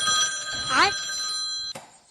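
An old-style telephone bell rings with a bright metallic trill, then a second burst begins just before the clip ends.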